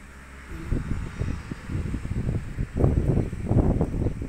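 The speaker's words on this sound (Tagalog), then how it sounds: "Lakas ng hangin." Strong wind blowing outdoors beside apple and pear trees, heavy low buffeting on the microphone that swells in gusts and grows stronger toward the end, with no clear talk over it.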